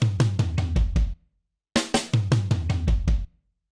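A drum fill in an early-to-mid 2000s hip hop style, played twice: two bursts of rapid, punchy drum hits in a steady rolling rhythm, separated by a short silence, loud and close with no talking.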